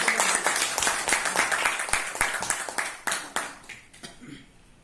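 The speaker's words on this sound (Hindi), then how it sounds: "उसके लिए एक बार भरपूर तालियां बजाइए" A modest audience at a Hindi poetry recitation event claps in a lively, fairly rhythmic burst of distinct claps that gradually slows and fades away.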